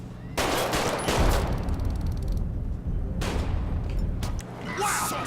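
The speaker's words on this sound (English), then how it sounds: "Shots fired! Shots fired!" Heavy bursts of gunfire in GTA V with the LSPDFR police mod, loud sustained volleys with brief pauses between them, a voice shouting in the middle of the shooting.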